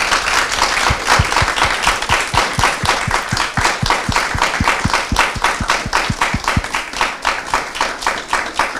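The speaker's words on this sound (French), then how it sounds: "on va vous remercier infiniment avec un tonnerre d'applaudissements" Steady, enthusiastic applause from a crowd, with dense clapping and a few distinct close claps, continuing throughout.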